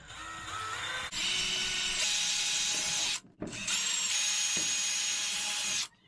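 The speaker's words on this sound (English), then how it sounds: "let's pre-drill these so they don't split on me" A power drill whirs at high speed boring pilot holes into wood for closet shelves in two long bursts separated by a short pause, close and loud.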